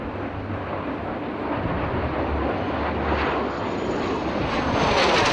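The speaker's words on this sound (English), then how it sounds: "Portugal's military jet aerobatic team is named the Wings of Portugal." Portuguese military aerobatic jets, the Wings of Portugal team, pass overhead at an air show saluting Red Bull Air Race flyers, giving a steady broad roar with wind buffeting that swells slightly toward the end, with no voices.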